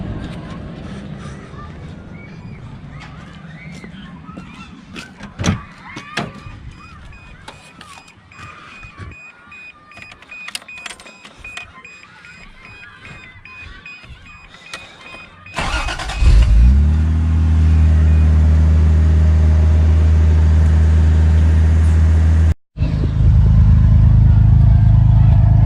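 A 1983 Toyota Supra engine cranks and catches, then settles into a loud, steady idle close by, after a stretch of quieter garage noise with clicks and voices; one brief cut near the end.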